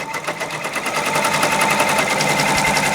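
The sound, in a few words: embroidery machine stitching a design on a sweatshirt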